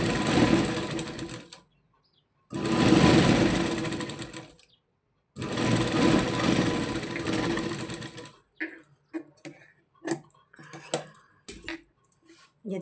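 Sewing machine running a fine stitch along a baby frock, in three close bursts of steady whirring separated by short pauses, followed by soft fabric handling and small clicks.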